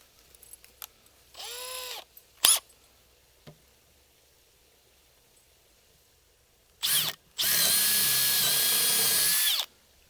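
A power drill drives lag bolts to mount waterwheel bearings, with short whirring bursts and clicks, then a brief pulse followed by a longer, louder sustained run of the drill, close and clear without speech.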